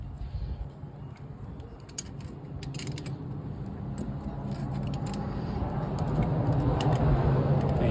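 Brake caliper compression tool on a 2016-2021 Honda Civic being twisted down by hand, giving soft, close mechanical creaks and ratcheting clicks over a steady low background, with scattered short metallic ticks and no talking.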